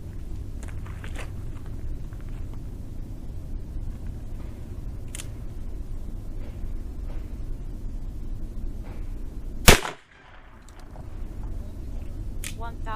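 A single sharp, loud pistol shot of .40 Smith & Wesson 180-grain Speer Gold Dot ammunition, fired one-handed over a chronograph outdoors, cuts through quiet background noise and is followed by a brief near-silence.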